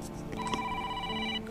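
A mobile phone rings while out on a snowy mountain, its electronic ringtone tones sounding steadily for over a second, fairly close and clear over faint background noise.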